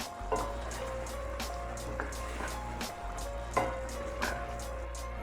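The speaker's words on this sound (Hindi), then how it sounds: "इसको अच्छे से मिक्स कर लेती हूँ और इसको 5 मिनट लगा के मैं अच्छी तरह भून लेती हूँ" Shinwari chicken karahi stirred and fried in a pan, a low steady sizzle under a constant hum, broken by periodic soft scrapes and knocks of the spoon against the metal.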